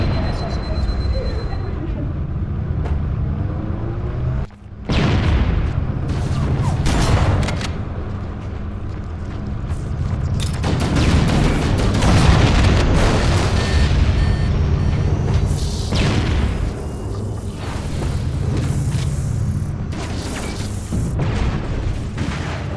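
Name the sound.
explosions destroying fusion reactors in video game Halo CE Anniversary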